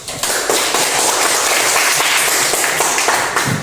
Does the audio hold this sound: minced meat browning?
no